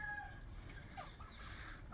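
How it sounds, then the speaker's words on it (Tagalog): Three-month-old Cherry Valley Pekin ducks call in short, scattered clucking bursts over a steady, noisy farmyard background. "Sila yung Cherry Valley Peking Duck."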